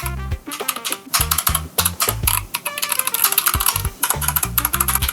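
Keys clack on a Darkflash GD68 mechanical keyboard in quick, uneven bursts with short pauses, recorded close and heard alone.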